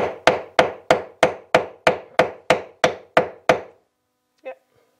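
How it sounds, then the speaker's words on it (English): Ten sharp, evenly spaced hammer strikes driving a plug into wood through a wooden block in an attic, loud and close, followed by a brief pause and a single faint squeak. "I've got a wooden piece of wood so that I don't break my little plug with this hammer."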